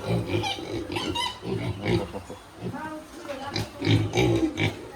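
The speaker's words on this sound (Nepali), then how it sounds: "बङ्गुरको बच्चा" Newborn piglets grunt and squeal in short bursts, close and fairly loud, scattered throughout with a person talking over them.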